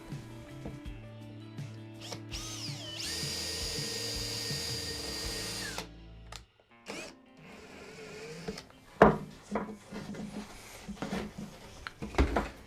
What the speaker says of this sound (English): Got my 7mm brad point.